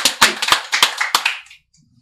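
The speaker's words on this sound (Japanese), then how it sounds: "拍手の方も、" A small audience at a mahjong tournament claps briefly: about seven distinct, close, crisp hand claps in an uneven rhythm over a second and a half, then near silence.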